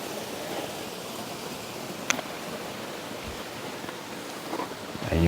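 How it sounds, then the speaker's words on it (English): A mountain stream runs down a pass to join a river, giving a broad, steady rushing wash of water heard from some distance, with one sharp click partway through and light handling noise at the end. "There's obviously a stream going down here to join up with the river."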